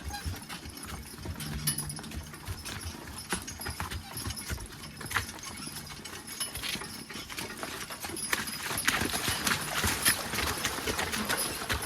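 A logging horse's hooves clip-clop in a steady walking rhythm, close by, over faint outdoor background noise; no talking.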